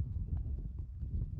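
Hooves of four-year-old horses being led at an Icelandic horse show, a quiet irregular clip-clop of several steps close by, with faint talk.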